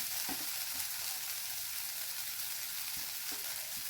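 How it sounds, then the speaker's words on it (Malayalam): Grated coconut being stir-fried for thoran makes a soft, even sizzle, quiet and continuous, with occasional faint stirring scrapes. "നമുക്ക് ഇതിനകത്തോട്ട് തേങ്ങ ചേർത്ത് കൊടുക്കാം"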